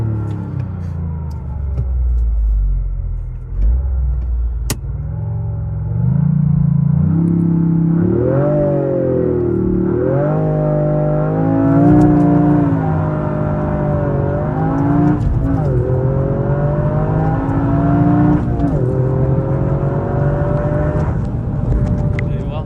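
A Toyota GR Yaris with 261 hp accelerates through a corner, its engine climbing in pitch through several rising revs and gear changes, a steady loud rumble heard close by while people talk over it.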